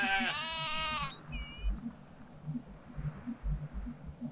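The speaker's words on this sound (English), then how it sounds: "How many sheep are you giving birth to?" Sheep in the Black & White 2 god game bleat once, loud and close, then quiet, low ambient rumbling and soft thumps follow.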